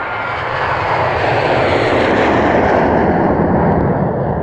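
An airplane roars overhead in a loud, steady broadband rumble that swells slightly and holds for several seconds, with no voices.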